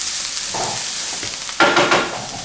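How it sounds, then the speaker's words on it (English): Garlic frying in a pan gives off a steady, loud sizzle. A quick stir cuts in with scraping, rustling strokes near the end. "once we've added the garlic, we really want to just give it a quick stir"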